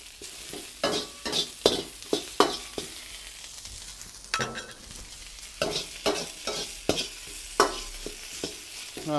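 Carrots and onions stir-fry in a pan for a chicken with mushroom dish, a spatula knocking and scraping in quick irregular strokes over a constant sizzle, close and lively, with no voices.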